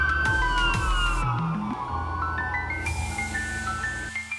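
Wailing emergency siren of an ambulance, rising and falling tones sweeping through a short burst, moderately distant with a low rumble underneath and no speech.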